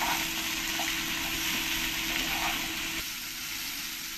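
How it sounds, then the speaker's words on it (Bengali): Vegetables seasoned with salt and turmeric sauté in a pan, giving a steady, even sizzle that runs the whole time with no voices. "দিয়ে ভালো করে আমি কষিয়ে নেব"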